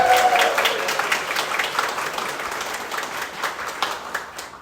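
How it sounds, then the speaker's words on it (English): An audience at a ribbon-cutting opening for the new Valley Health Center Lundy Clinic breaks into loud applause that tapers gradually, with a brief whoop at the start. "Huge round of applause."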